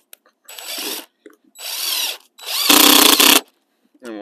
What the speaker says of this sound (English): screw in that stake to hold it. And we do two screws per stake.